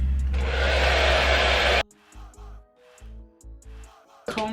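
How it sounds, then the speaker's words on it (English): A hair dryer on a cool setting blows with a steady airy whoosh for about two seconds, then cuts off, followed by some music and brief rustling. "I'm just gonna take my dryer on a cool heating setting"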